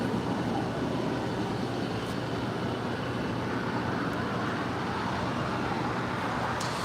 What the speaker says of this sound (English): that is United Airlines Flight 2362 coming in from Phoenix, Arizona